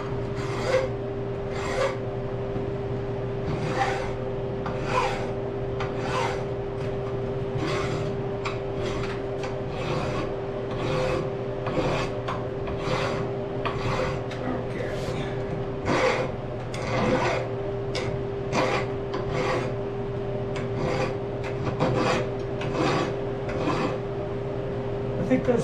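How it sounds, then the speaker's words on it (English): A Nicholson Magic Cut file rasps across metal in a shop, steady rhythmic back-and-forth strokes about one per second, close and even over a low constant hum. "This is a Nicholson Magic Cut file."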